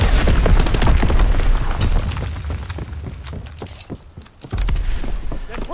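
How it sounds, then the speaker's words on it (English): Mortar explosions in the World War II shooter game Call of Duty: WWII, a dense barrage of heavy booms and crackling blasts with rapid bursts, loud and continuous, briefly easing before pounding again. "Enemy mortar fire incoming!"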